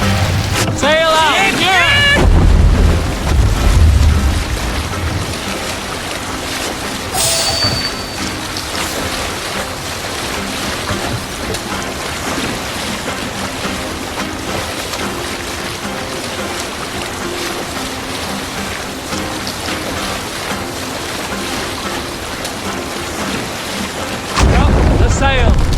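Viking longship under sail at sea in Assassin's Creed Valhalla, with steady wind and water rush running throughout, swelling louder at the start and end, and voices talking briefly near the beginning.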